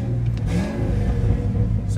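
A Ford F250 pickup truck engine revs up with a rough, loud rumble close by, holding a steady growl throughout.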